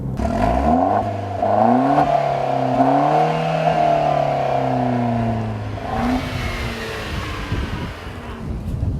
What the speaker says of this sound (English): That is an actual Borla exhaust, and it is part of an option for this car